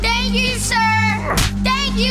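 In a GTA V radio commercial, a whip strikes a child once with a sharp, loud crack. It lands between a voice speaking over a steady background hum.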